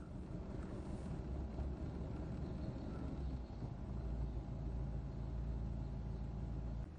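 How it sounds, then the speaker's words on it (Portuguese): A car engine idles steadily just after starting, a low, constant rumble with a droning hum, even and close throughout with no talking. "O carro pegou, galera."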